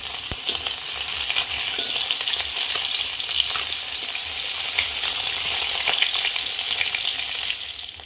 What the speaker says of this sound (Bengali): সব মাছ দেখো একবারে ভাজা করছি